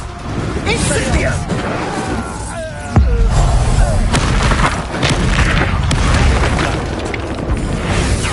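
Incendio fire spell cast in Hogwarts Legacy, a booming burst of flame with explosive crackle and a deep impact around the middle, over ongoing combat noise and a shouted voice.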